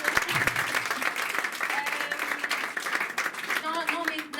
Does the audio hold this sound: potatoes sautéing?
no